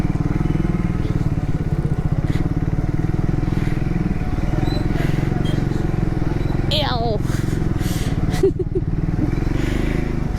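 A motorcycle on a one-day road ride from Pune toward the coast keeps up a steady, close engine drone and low rumble throughout, with wind noise, a brief chirp and a few clicks over it.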